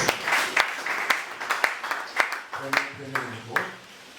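A church congregation applauds during a bilingual French and Portuguese service, with bursts of clapping mixed with voices and a speaker talking over it, the sound fairly close and busy throughout.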